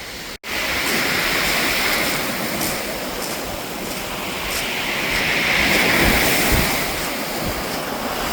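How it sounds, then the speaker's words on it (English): Steady roar of surf crashing close by on a rocky shore on Malcolm Island, continuous and loud, with wind buffeting the microphone and the gentle clatter of water churning over stones. "the water is crashing in at my feet"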